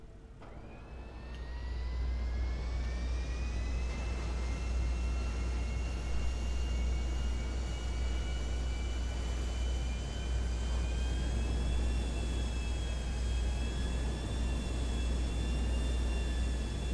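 Steady airplane engine drone in GTA 5, a loud continuous whine with rising tonal pitch over a deep rumble, sustained and close with no talking.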